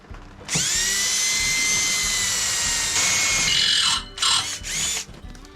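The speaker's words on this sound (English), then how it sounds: "Now I'll try and drill this side." Power drill whines loudly and steadily while boring through the other side of a piece for a temporary shelter, then cuts out and restarts in two short bursts near the end.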